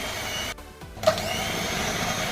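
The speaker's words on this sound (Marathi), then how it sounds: "मी आता बिटरच्या साह्याने तुम्हाला करून दाखवणार आहे बिटरच्या साह्याने आपल्याला बीट करून घ्यायचं आहे" An electric beater whirs steadily through a vanilla ice cream mixture made from milk, a close, continuous motor drone that briefly drops out before resuming.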